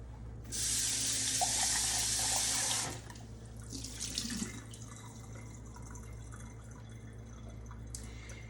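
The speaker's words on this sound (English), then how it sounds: "I'm just going to try to pour this very quickly so I don't waste any of the juice." Fresh homemade juice, partly celery, is poured quickly in a home kitchen: a steady, close liquid stream lasting about two seconds, followed by quieter handling noises.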